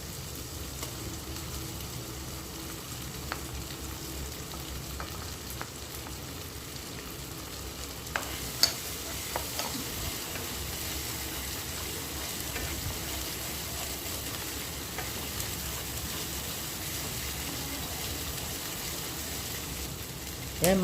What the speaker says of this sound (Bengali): আদা রসুন বাটা, পেঁয়াজ বাটা দিয়ে মাংসটা কষা হচ্ছে